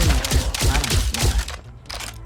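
Rapid bursts of gunfire from dual-wielded SMGs in the video game Phantom Fury, loud and dense with quick repeating thumps, easing off near the end.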